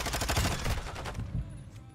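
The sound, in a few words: gunfire through walls in video game Modern Warfare 2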